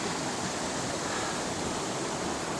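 Dhage Chhahara waterfall gives a steady, full rushing roar of falling water that holds constant and fairly close, with no voices over it.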